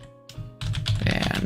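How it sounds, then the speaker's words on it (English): Fast clattering keystrokes on a computer keyboard, close and fairly loud, starting after a brief quieter moment and continuing in a dense burst. "So I'm just going to type them in now."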